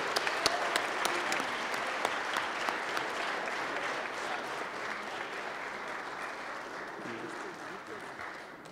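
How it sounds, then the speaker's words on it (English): Audience members at a post-fight boxing press conference applaud steadily for several seconds, with some sharp claps standing out early before the clapping thins, and a voice speaks beneath it. "Let's a round of applause for Brandon Bam Bam Rios"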